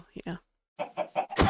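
Game chickens let out a few short, close clucks in a quick series, with a brief word spoken at the start and a sudden louder burst at the end.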